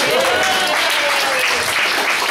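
An audience bursts into loud, dense applause for a stand-up comedian at a comedy show, steady claps filling the room with a voice faintly over them.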